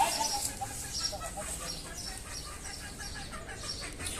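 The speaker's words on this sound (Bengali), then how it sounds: "দেখতে পারতেছেন মোরগটা" A newly bought native village rooster clucks softly in a coop during cold winter weather, brief faint calls over a steady background hiss.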